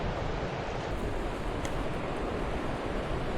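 The Malheur River runs high and fast in open country, a steady broadband rush of flowing water holding close and loud throughout, with no talk over it.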